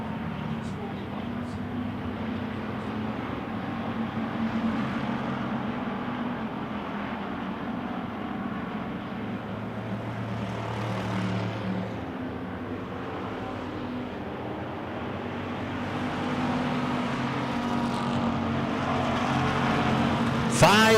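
Wissota pure stock race cars circle a dirt track during the feature, a continuous engine drone that swells and fades as the pack passes, with a track announcer talking over it.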